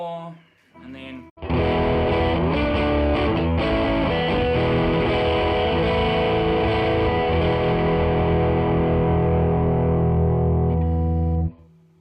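An electric guitar plays through a Fender pedal with a gainy, distorted tone. Brief picking gives way to a loud, thick, sustained chord that rings for about ten seconds before cutting off.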